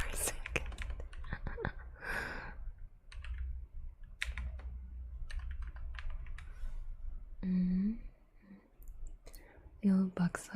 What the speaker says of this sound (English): listen to me typing and clicking for a second.